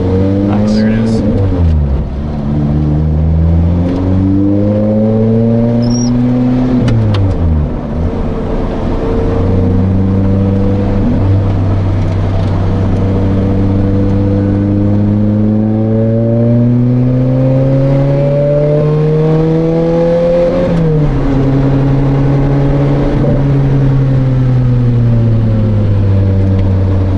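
A 2007 Lotus Exige S 220 engine on a track climbs and falls through the revs with sweeping, loud pitch changes and repeated shifts, heard from inside the car, with someone talking over it.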